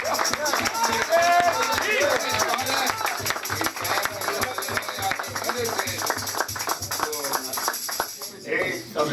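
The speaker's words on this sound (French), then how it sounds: "On va applaudir encore Jésus." A church congregation claps together in praise of Jesus during a lively service. Rhythmic, steady group clapping at a quick even beat carries through the whole stretch, with voices and music-like tones woven underneath.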